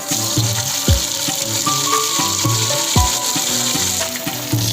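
Garlic ginger paste spatters and sizzles among browned onions in hot oil, a loud close crackle broken by rhythmic spatula scrapes and knocks against the pot.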